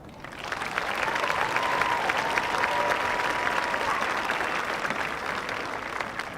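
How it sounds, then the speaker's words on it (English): A large audience applauds the graduating class of 2026 at Yukon High School's commencement, sustained dense clapping swelling in and holding steady for several seconds, with faint cheering mixed in. "Let's give them a round of applause."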